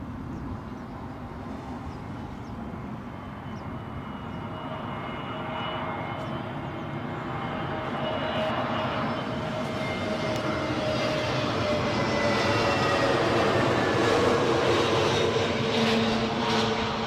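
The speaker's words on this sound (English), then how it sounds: "the one that's in the middle of your screen, is going to be Aer Lingus inbound from Dublin. 320neo." Aer Lingus Airbus A320neo inbound from Dublin landing at Heathrow, a distant engine drone gradually building louder as it approaches, with a faint rising whine near the end and no talk.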